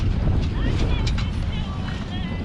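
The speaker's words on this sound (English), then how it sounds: "look at this wind." Gusting wind roars across the microphone aboard a sailboat, a dense low rumble with faint higher noises above it, steady for a couple of seconds.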